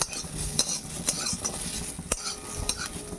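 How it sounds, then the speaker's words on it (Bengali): Chicken being stirred in a kadai wok: a spatula scrapes and clinks against the metal in an irregular rhythm over a soft, steady sizzle, close and moderately loud, with no voices. "টস তো ঠিক হবে না আমার কড়াইয়ে, মানে আপনি নেড়ে চেড়ে নামিয়ে দেবো"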